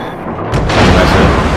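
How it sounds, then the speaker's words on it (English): Naval guns fire in World of Warships, a sudden heavy boom that rolls into a sustained rumbling blast, loud and close. "Shoot this Hendy with me."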